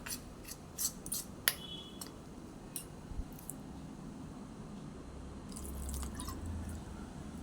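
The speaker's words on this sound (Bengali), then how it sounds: "এইভাবে এবারে বেসনটা গুলে নিচ্ছি" Gram flour (besan) batter is mixed with water by hand for lentil fritters, giving close wet squishing and dripping clicks, with a brief soft rushing noise near the end.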